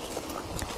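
A big horse's hooves clip-clop during a horsemanship session, soft irregular thuds close by, faint and brief.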